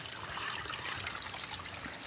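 Water trickles from a newly opened spout in a soft, even, hissing flow, faint and steady, with no voices.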